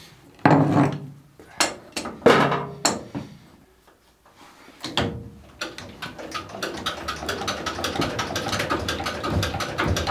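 An old Lister engine is cold-started, cranked in a series of heavy, spaced knocks, then catches and settles into a rapid, regular mechanical chugging that runs steadily to the end, fairly near and with no talk.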